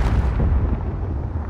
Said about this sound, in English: if they want an explosion, let's make one.